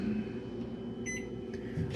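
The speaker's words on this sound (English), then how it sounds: "Microwave." A microwave oven in a hotel studio suite kitchen runs with a steady droning hum and gives a couple of short, high electronic beeps, heard up close without talking.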